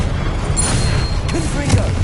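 An Incendio fire spell cast in Hogwarts Legacy, a loud booming burst over a rumbling combat backdrop, with a voice over it.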